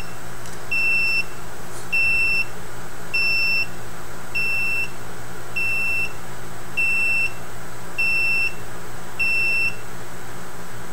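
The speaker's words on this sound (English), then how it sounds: "That's 10 beeps." Loud electronic beeper sounding ten evenly spaced, short, high-pitched beeps about once a second over a steady background hum, alarm-like and with no talking.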